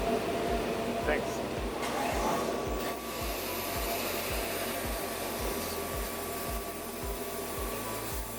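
A laser cutting machine runs while cutting adhesive tape, giving a steady loud whir with a regular rhythmic pulsing thump about every half second throughout.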